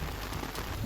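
Heavy, steady rain pours down in Ambala, Haryana, a dense continuous hiss of water on the ground and street surfaces with no break.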